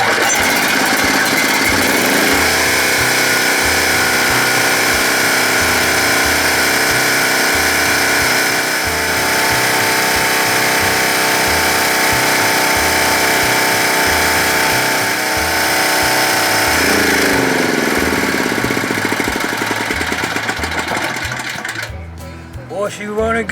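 A freebie generator's small engine runs loudly and steadily up close, with a rapid pulsing chug and a bright mechanical whine throughout, dropping off briefly near the end.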